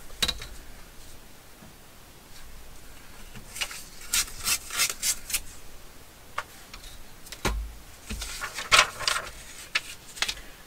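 A sheet of blue stationery paper is trimmed at the top edge, with quiet, intermittent scraping strokes and soft clicks of the cutting blade, close by.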